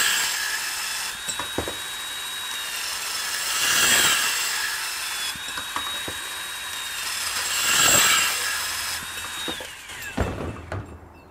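Bosch compact 7.3 lb portable band saw cutting through 1 inch EMT conduit, a steady high whine with three rising cutting passes, each ending in a clunk as the piece drops, close and loud with no talk.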